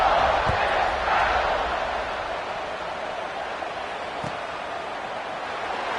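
A college football stadium crowd at an Ole Miss game buzzes after a touchdown, a steady distant roar with the murmur of many voices and no sharp peaks.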